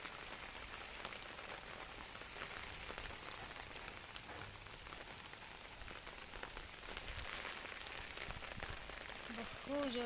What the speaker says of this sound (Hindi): बहुत जोर से रेनफॉल